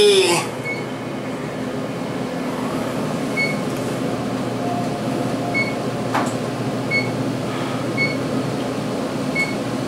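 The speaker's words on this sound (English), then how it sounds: "So let's get a final ride on this original elevator." Otis Elevonic 401 traction elevator car riding between floors at a Westin hotel in Indianapolis, a steady rumbling hum with faint periodic chimes and clicks, close and continuous with no speech.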